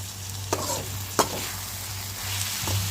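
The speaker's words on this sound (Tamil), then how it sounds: "இந்த பூசணி தக்காளி இதெல்லாம் வந்து ஆயிலே ஒரு 10 நிமிஷத்துக்கு நல்லா வதக்கிக்கலாம்" Ash gourd and tomato sauté in hot oil, a steady soft sizzle broken by a few sharp scraping stirs of the spoon, close and quiet, with no voices.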